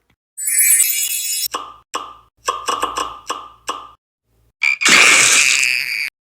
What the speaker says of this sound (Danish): der kommer en frø